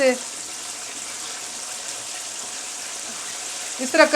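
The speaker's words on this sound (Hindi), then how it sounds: "चिकन जब दूसरी दफ़ा फ्राई करते हैं तो चिकन अच्छे क्रिस्पी हो जाते हैं" Chicken wings in their second fry in hot oil over a low flame, giving a steady, even sizzle throughout with a few brief clinks near the end.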